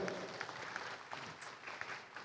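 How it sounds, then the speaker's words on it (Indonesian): Seminar audience at a future-of-work and education conference breaks into steady applause, a soft, distant wash of many hands clapping with a few faint voices mixed in. "Tepuk tangan lagi dong."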